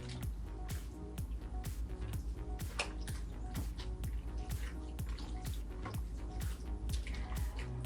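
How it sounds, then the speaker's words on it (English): Recipe ingredients stirred together in a bowl for a crockpot dish, a steady close run of wet squishing and clicking strokes in an irregular rhythm, with no talk. "So you're gonna stir it all up."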